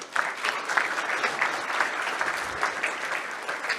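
Audience applause at a school recognition event, a dense, steady round of clapping from a seated crowd that holds at an even level throughout.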